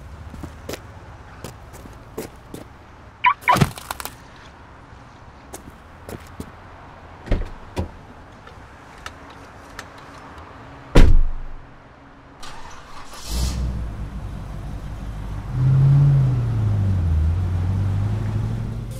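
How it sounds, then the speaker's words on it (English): Scattered footsteps and small clicks, a car door thuds shut, then an engine starts and settles into a low idle. "here are some footsteps and some noise when I'm getting into the car"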